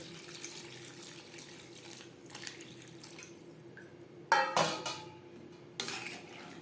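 Water poured into a thin koi fish curry gravy with potatoes, cooked with little oil and no garlic or onion, as two short splashy bursts over a quiet kitchen background.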